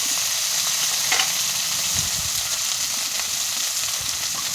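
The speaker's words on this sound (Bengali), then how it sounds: "এবার ওলগুলো আলুগুলো সব একসাথে ভেজে নেব।" Pieces of elephant foot yam and potatoes fry together in hot oil, giving a loud, steady sizzle with occasional stirring scrapes and crackles close by.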